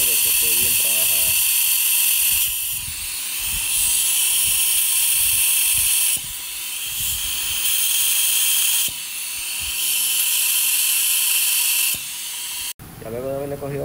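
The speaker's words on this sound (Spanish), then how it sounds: "Aquí nos encontramos cogiéndole vacío a la tapa para asegurarnos de que esté bien trabajada" Vacuum tester pulling suction on an engine cylinder head to check the valves: a loud steady hiss and whine that pulses in long stretches, with brief breaks between pulls.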